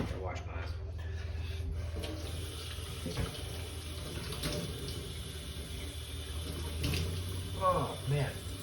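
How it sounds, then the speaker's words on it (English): A kitchen tap runs steadily while someone splashes water to wash their eyes during a stir fry cooking session, with soft clunks and a voice briefly heard near the end. "I'm gonna wash my eyes."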